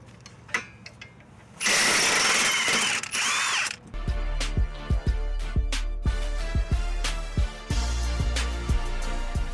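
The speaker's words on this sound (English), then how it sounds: "Even though I don't condone the use of non-impact grade sockets with an impact wrench," Impact wrench removing a knuckle-to-strut bolt on a 2004-2012 Mitsubishi Galant, a loud sustained burst of hammering followed by repeated short rattling bursts, close up.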